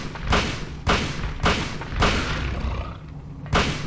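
Five heavy gunshots in the Silent Hill video game, fired at spaced intervals of roughly half a second to a second, each a sharp loud thump with a short decaying tail and no talk over it.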